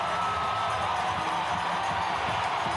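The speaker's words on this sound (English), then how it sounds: "The crowd have gone mad here." Cricket crowd at a West Indies versus England match roaring after a Brian Lara boundary, a dense, sustained wall of cheering and whooping with no letup.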